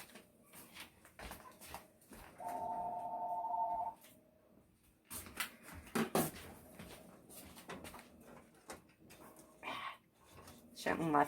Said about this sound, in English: Oh, phone, just a second.